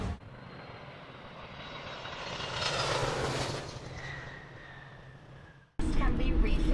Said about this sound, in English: We boarded the plane. Now headed to Amsterdam.